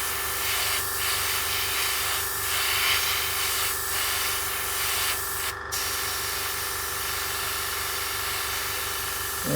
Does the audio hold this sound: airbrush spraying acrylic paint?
yes